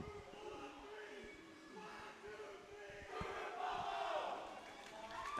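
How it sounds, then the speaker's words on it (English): Two high school water polo teams shout their start-of-game cheer at a Utah men's championship. It is a faint, distant crowd yell that swells louder in the second half under echoing hall ambience. "Both teams do their start of the game cheer."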